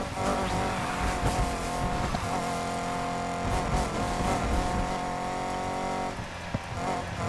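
Cars race through night streets in Need for Speed Heat, with loud, continuous engine roar that rises and falls through gear changes, along with tire squeal and skidding and a brief drop near the end.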